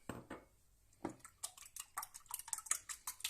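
Quick, irregular clinking and tapping of a utensil whisking an egg and milk mixture in a bowl, close and fairly quiet, with no voices.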